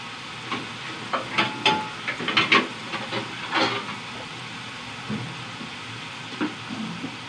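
French fries frying in hot oil, a steady broadband sizzle and hiss with scattered pops and crackles of bubbling fat, close and fairly quiet throughout, no voices.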